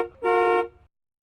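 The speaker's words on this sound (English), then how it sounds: "Car." A single sustained car horn honk, loud and steady for about half a second, standing alone with no talking.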